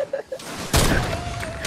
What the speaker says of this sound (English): Your grenades are freaking me out.